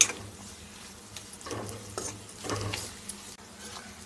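Onions softening in a pan for a drumstick-leaf and moong dal curry, a quiet, even sizzle with occasional soft stirring scrapes, fairly faint and without voices.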